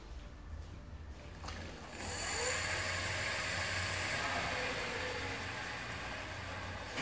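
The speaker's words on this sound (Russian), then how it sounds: "он понимает, что надо включать электромотор и начинает ехать сам" Electric motor of a DENDOU e-bike conversion kit spinning up, a steady whirring hum that rises in pitch and loudness after a couple of seconds and keeps running close by.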